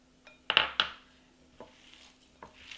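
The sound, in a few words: mashing cooked cauliflower and potatoes together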